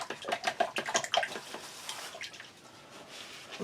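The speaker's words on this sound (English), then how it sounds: "So let's just rinse my spoon." A spoon is rinsed under running tap water, a short burst of splashing and trickling with light clinks that fades to a quieter flow.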